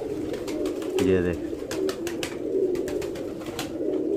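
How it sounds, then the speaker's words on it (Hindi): A high flyer pigeon gives a deep, throaty coo-burst lasting about a second, heard close among rustling background noise while someone talks in Hindi throughout. "दोस्तों, ये है वो कबूतर, और वो इसकी मादी है।"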